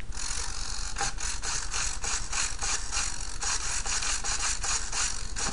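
A small grinding tool works a part on a Micro Hawk micro EDF model aircraft, a continuous rasping, scraping noise with a rapid rhythmic pulse, close and steady throughout.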